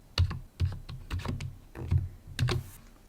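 Fingers tap out an email address on a computer keyboard in quick, close clusters of clicky keystrokes, steady and uninterrupted by talk.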